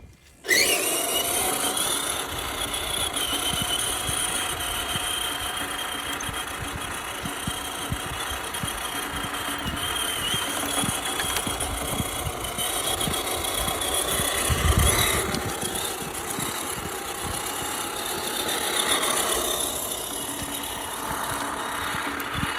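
An RC crawler with dual brushed motors runs continuously, a steady whining electric motor hum with gear noise and a brief louder bump midway, close to the listener.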